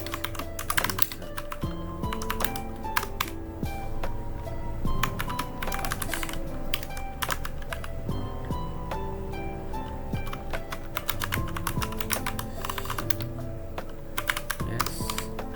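Rapid, steady clicking of a computer keyboard while configuring a Proxmox server, close and continuous with no voices, the keystrokes coming in quick uneven bursts.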